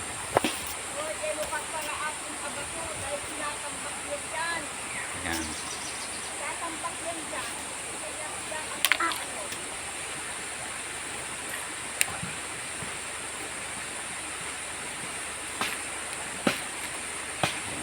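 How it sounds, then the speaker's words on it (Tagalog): Steady broadband rush of river water fills the whole stretch, a constant stream-like wash with a few sharp knocks and voices talking over it while laundry is washed. "naglalaba kami rito sa ilog at dito ay libre ang tubig"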